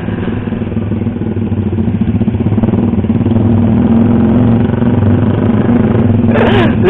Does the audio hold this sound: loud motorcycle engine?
yes